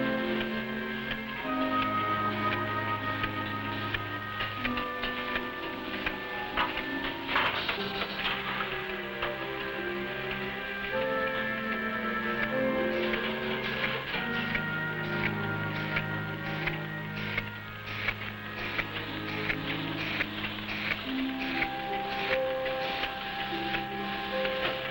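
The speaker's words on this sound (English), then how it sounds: "This machine places empty capsules into a circular metal disc." Capsule encapsulating machine for a food supplement filling empty capsules into a circular metal disc in a 1950s factory, running steadily with rhythmic mechanical ticking and clatter under a musical background.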